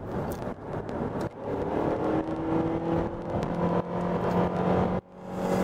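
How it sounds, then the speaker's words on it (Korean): A Renault QM6 mid-size SUV's engine pulls steadily under acceleration, heard from inside the cabin as a strained droning whir. The drone rises in pitch with a few brief dips, mixed with road and wind noise. "아무래도 엔진 사운드가 그렇게 경쾌하진 않죠."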